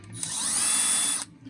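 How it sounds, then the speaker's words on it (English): An impact driver in drill mode whirs steadily at high speed for about a second, starting and stopping abruptly, close and alone. "And we'll set this thing to the drill mode."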